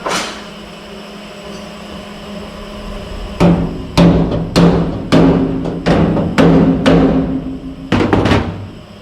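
In a fabrication shop building a door, sharp metallic blows ring out after a steady mechanical hum, about ten hammer strikes in an uneven rhythm, loud and close.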